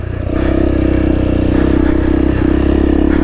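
Honda CRF300L motorcycle ridden hard off-road, its engine a loud, close, continuous drone that holds steady with slight surges throughout.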